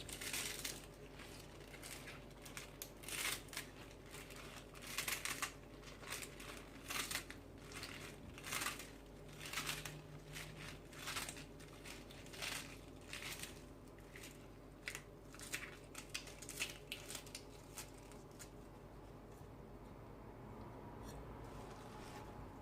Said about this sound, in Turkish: Ispanağımı doğruyorum.